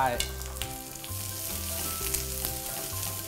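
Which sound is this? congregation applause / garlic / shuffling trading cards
garlic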